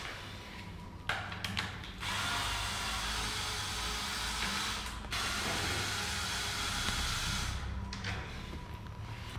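A power tool whirs in long bursts, stopping and starting as construction screws are driven out of a Yamaha WR125R motorcycle's fairing, with creaks and ratcheting clicks between runs.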